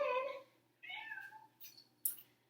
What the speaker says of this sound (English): he is the really talkative kitty of our house. So say hi.